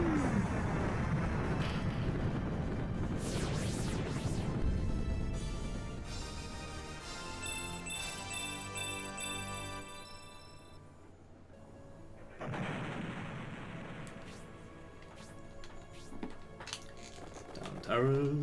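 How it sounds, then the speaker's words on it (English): An Inferno spell effect from Shining Force erupts as a loud, roaring noise burst with rumbling, crackling texture and tonal synth layers, fading before a second fiery surge, with a voice talking over the game sounds. "There you go, there's your Inferno."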